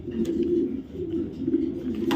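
A female racing pigeon coos in soft low repeated phrases close by, with no one speaking.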